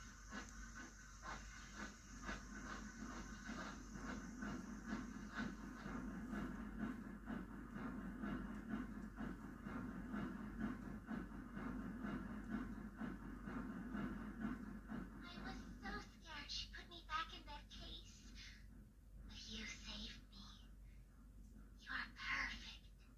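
A steady rumble and rhythmic clatter of train wagons rolling along in the video game Poppy Playtime Chapter 2, with a hissy high tone early on and sharper clanks toward the end.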